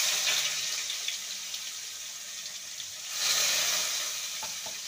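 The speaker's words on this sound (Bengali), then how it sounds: "পেঁয়াজটাকে ভেজে নেব হালকা" Chopped onion fries in hot oil for a taro and prawn curry, a steady close hiss and sizzle that swells louder about two-thirds of the way through, with a few faint clinks near the end.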